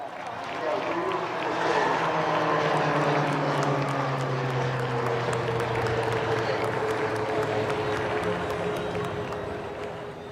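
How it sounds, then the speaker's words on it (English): An HTT-40 trainer aircraft makes its first aerial display at an Indian Air Force anniversary show, its engine drone rising and falling as it passes, with crowd noise and an announcer's voice over it. "is the HTT-40 aircraft for the first time ever in an aerial display."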